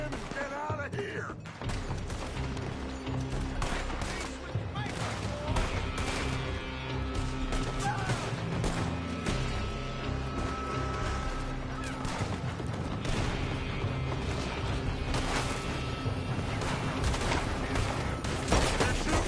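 Sustained gunfire rings out from a building in the Red Dead Redemption 2 video game, with dense, continuous shots and clattering impacts over a loud, busy background for the whole stretch.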